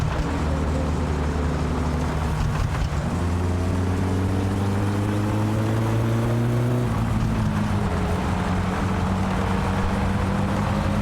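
A car engine in My Summer Car drones loudly and close, shifting up through rising pitch steps as it revs and changes gear, with no talk over it.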